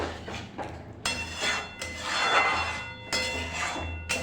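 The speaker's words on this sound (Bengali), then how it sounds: "এবার ভালো করে নাড়া দেবো" Egg chilli is stirred in a pan after water has been added, producing scraping, knocking and rubbing strokes of a utensil against the pan in irregular bursts at moderate, fairly quiet level.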